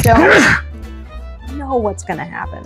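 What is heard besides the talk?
sneeze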